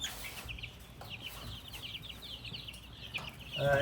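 Hens including a Wyandotte and a Buff Orpington cluck steadily nearby in a coop, a continuous run of soft clucks with a louder call at the end.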